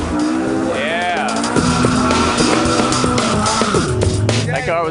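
Car engines revving and tires squealing at a nighttime street gathering in Moscow, with rising and falling tonal whines over crowd noise and talk.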